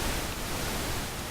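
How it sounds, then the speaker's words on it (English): Pink noise test signal for audio demonstration, a steady broadband hiss at even loudness with no other sounds. "Watch what happens when I take this pink noise."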